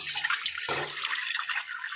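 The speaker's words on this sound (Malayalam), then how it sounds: "അടുപ്പത്തൊരു പാത്രം വെച്ച് കൊടുത്ത് അല്പം വെള്ളം ഒഴിച്ചു കൊടുക്കാം" Water pours into a pot on the stove with a steady close splashing rush that shifts tone partway through the short pour.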